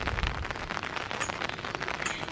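Rain falls on a rainy day in Sialkot, a soft, steady hiss of drops spattering on surfaces, faint and unbroken, with no voices.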